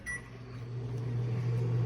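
A microwave oven hums steadily while heating food, a low constant drone close by, with a faint beep at the start.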